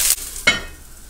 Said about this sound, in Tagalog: Tsaka ako ilalagay dito sa ating mainit na mantika. Yan. Iprito natin yan ha.